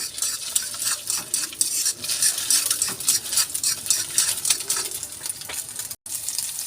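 Egg is stirred in a hot pan, with busy, continuous scraping and clinking under a constant sizzle, close and fairly loud, with one brief dropout near the end.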